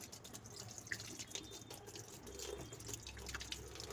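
Tap water runs steadily while a Haier washing machine is being cleaned, with a continuous splashing and trickling wash close by and small drip-like accents over it.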